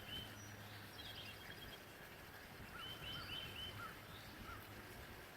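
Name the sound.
birds chirping and running water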